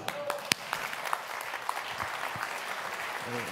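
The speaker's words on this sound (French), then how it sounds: "Vous pouvez applaudir la candidate de la droite et du centre présente avec nous." Audience applause at a political party's national council, as delegates clap for a candidate of the right and centre: a scattered, moderately quiet clapping spread evenly through the room, with a few sharper individual claps.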